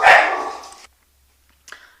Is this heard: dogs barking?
yes